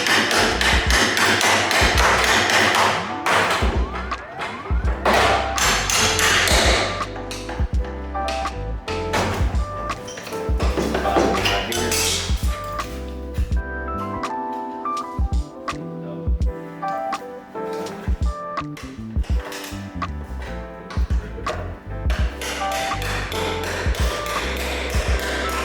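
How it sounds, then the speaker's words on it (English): Hammering and chiseling to free the driver's side door frame panel from the chassis of a stolen, sunken Acura NSX: a long run of loud, close metallic taps and thuds in uneven bursts, with no speech. "After some hammering and chiseling, as well as some persuasion, we were able to remove the driver's side door frame panel"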